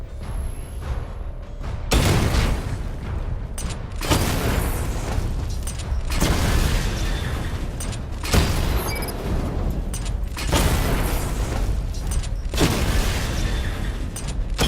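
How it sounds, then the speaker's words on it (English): Missile barrage explosions in a Gotham video game, a series of heavy booms arriving in regular waves every couple of seconds, each bursting loud and then rumbling away under mechanical game noise. "Charge the missile barrage to level 2 to destroy up to 4 targets at once."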